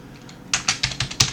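Someone types a short command on a computer keyboard: about six crisp, close keystrokes in a quick uneven burst after a brief quiet start.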